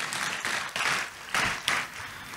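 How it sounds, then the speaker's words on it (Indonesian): Church congregation applauding in praise during a sermon, a few bursts of clapping that swell and fade in waves over a hushed room, mid-distance and without talk. "Tepuk tangan sekali lagi buat Tuhan Yesus."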